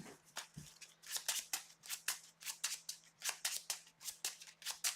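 Rapid crisp riffling of a deck of game cards during a tabletop card game, a quick run of sharp papery flicks and snaps in an uneven rhythm, close and fairly quiet with no talk.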